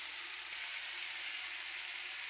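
Thecha, a coarse chili-garlic relish, sizzles steadily in an iron tawa, a dense close-up frying hiss running unbroken throughout with no voices.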